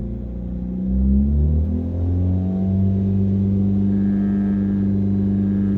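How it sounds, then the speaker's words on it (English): A four-cylinder car running without a muffler drones steadily from inside the cab while driving at cruising speed, a loud low rumble with a rising engine tone and no talking. "So this is what it sounds like without the muffler, and there's like a lot of drone in the cab."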